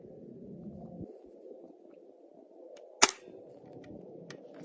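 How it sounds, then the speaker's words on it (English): A pellet rifle fired at a cabbage outdoors gives one sharp, loud crack midway, followed by a few faint clicks, over a low steady background rumble. "now with the pellet rifle, we're gonna shoot our array of fruit there and vegetable,"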